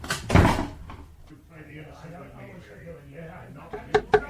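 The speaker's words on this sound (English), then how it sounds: "And shut the door, sonny" A door shut in a radio drama of Treasure Island, a sharp thud early on followed by muffled movement and a couple of quick knocks, with voices speaking in the scene.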